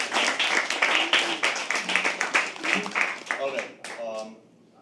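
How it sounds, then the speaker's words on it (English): Crowd at a live poetry open mic at The Habitat applauds loudly with rapid, overlapping claps and some voices mixed in, then the clapping dies down and a voice is heard at the end. "So can we have a round of applause?"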